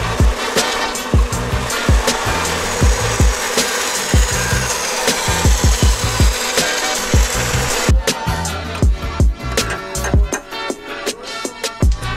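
Someone saws by hand at a 90-degree intake pipe bend for a turbo E46 intercooler setup, loud rapid back-and-forth strokes repeating steadily up close, with no talk.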